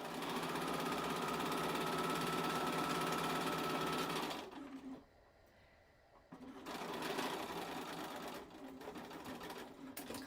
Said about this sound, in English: I've got a knotting machine, so it kind of does it automatically.